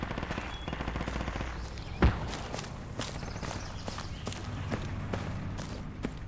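Gunfire in the military shooter Project Reality: a steady stream of sharp shots crackles throughout, with one louder nearby blast partway in, over a constant low rumble of battlefield ambience.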